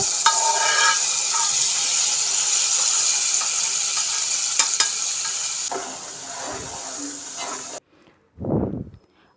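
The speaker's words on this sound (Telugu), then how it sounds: "ఆ పులుసులో ఈ తాలింపు మొత్తం వేసేసుకోవాలి" A tempering of cumin fried in oil is poured into a drumstick tamarind broth. Steady loud sizzling runs for several seconds, then softens and cuts out, followed by a short low bubbling splash near the end.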